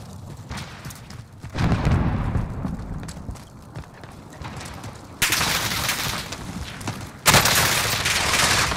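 Bursts of gunfire from a battle royale video game, with dense rapid volleys crackling loudly in several sharp clusters, the heaviest salvos arriving in the second half, with no talking over them.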